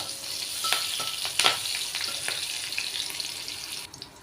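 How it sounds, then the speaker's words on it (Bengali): Nigella seeds and green chillies crackling in hot oil as they are stirred, a close, steady sizzle with quick scraping strokes and a few sharp pops, fading slightly at the very end, no voices. "ওই একই তেলে দিয়ে দেব কালো জিরে ফোড়ন দিয়ে দেব দুখানা চিড়ে রাখা কাঁচা লঙ্কা এইবারে আমি এটা খুব ভালো করে একটু নেড়ে নেব"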